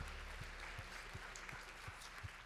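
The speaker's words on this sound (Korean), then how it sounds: "감사와 영광의 박수를 올려드립시다." Steady applause from a church youth worship service, a dense wash of many hands clapping, fairly quiet and distant, with a few louder regular claps standing out.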